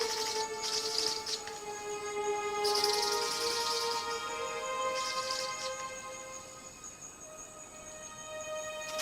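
Ribbon-tailed astrapia birds of paradise call during a courtship dance in misty mountain forest, with repeated sharp bursts and steady tonal notes layered over a soft, constant background hiss.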